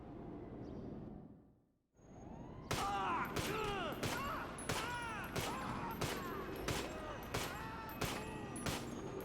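Bursts of rapid gunfire from a Scorpion submachine gun in GTA V, a dense string of repeated loud shots after a brief quiet gap, with game ambience beneath.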